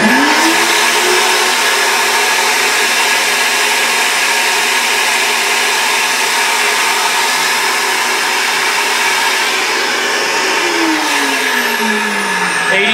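A cylinder head flow bench runs a steady airflow test at 750 on the intake port of a GM 781 head from a 454 big block Chevy, a loud continuous whooshing roar with a motor tone that rises at the start and falls away near the end.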